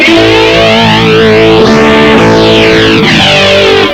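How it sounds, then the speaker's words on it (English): Distorted electric guitar chords through a Vox Amplug Brian May amp ring out with a sweeping, swirling phaser effect that rises and falls steadily throughout. "now I can have phaser"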